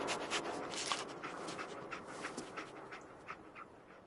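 Dog panting in the Fallout 4 video game: a steady, breathy huffing rhythm heard close up over a dense, noisy game soundscape, with no speech.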